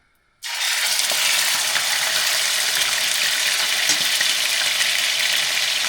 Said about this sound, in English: so we can sear that meat when we drop it in